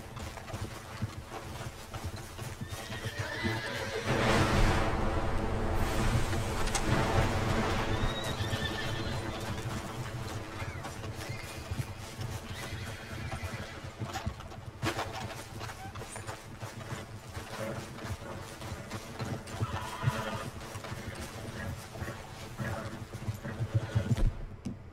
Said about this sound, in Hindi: ये लाल घोड़ा तो दिख रहा है, लेकिन लाल घोड़ा तो है नहीं, नॉर्मल घोड़ा लग रहा है।